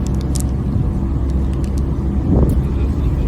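A car driving along a scenic hillside road near Temecula, a steady close engine and road rumble from inside the vehicle, swelling slightly near the end, with light clicks above.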